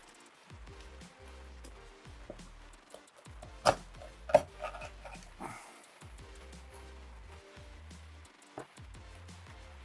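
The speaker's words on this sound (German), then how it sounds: "Jetzt brauchen wir unser Messer und jetzt schneiden wir eigentlich nur Steaks raus." A knife cuts a scaled pike into steaks, with repeated soft chopping and rubbing strokes near and close, a few sharper knocks against the board midway, and no talking.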